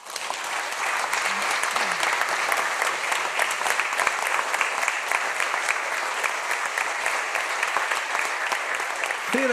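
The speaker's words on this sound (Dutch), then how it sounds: "En een applaus." Sustained applause from an audience at a municipal council award ceremony fills the room steadily at moderate volume, with a brief spoken word near the start.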